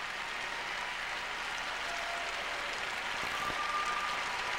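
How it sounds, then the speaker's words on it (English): A large arena crowd at the 1994 Winter Olympics gives steady, even applause after a figure skating short program, a continuous broadband wash of clapping without cheers or swells. "rather lukewarm applause from the audience"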